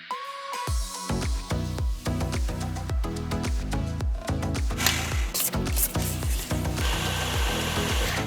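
An electric mixer whirs up to medium speed while combining vegan banana cake batter in a bowl, a loud, close motor drone with rhythmic beater scraping that continues steadily for several seconds.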